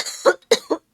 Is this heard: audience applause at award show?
no